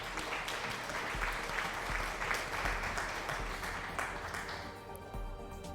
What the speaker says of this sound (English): Here is an applause for you.